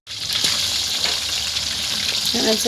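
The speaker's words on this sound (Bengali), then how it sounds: "একসাথে সব মাংসগুলো দিয়ে হালকা তেলের মধ্যে ভাজবো।" Meat frying all at once in a little oil with bay leaves in a home kitchen, a steady close sizzle and crackle running throughout, with faint stirring scrapes near the end.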